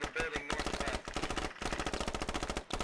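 A video game firefight, likely involving a PPSh submachine gun, with loud close bursts of rapid automatic fire in a steady fast rhythm, separated by brief pauses.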